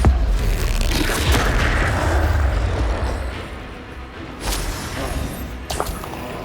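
A Bombarda explosion spell goes off in Hogwarts Legacy on PS5: a loud, close boom with a deep rumbling roar that slowly fades, followed by a couple of smaller thuds later on.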